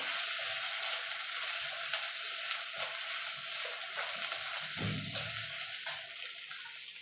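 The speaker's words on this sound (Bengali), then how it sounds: "ফোড়নটা একটু ভালো করে ভাজা ভাজা করে নেব" Grated ginger and spices frying in a pan for a tempering for biulir dal with bottle gourd, a steady close sizzle with light stirring scrapes throughout and no talk.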